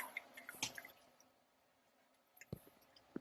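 Whey from squeezed homemade mozzarella dripping into a bowl, quiet scattered drips and wet squishes close by, a small cluster at the start and a few sharper drops near the end.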